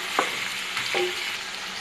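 Chicken khara masala browning in a karahi gives a soft, steady sizzle, with two brief stirring scrapes, faint and without speech.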